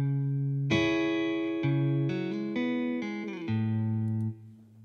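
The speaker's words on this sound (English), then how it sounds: "And then there's a little riff right here." A clean electric guitar riff from the Ample Sound virtual instrument plays a short run of sustained notes and small slides, alone and fairly soft, ringing out at the end.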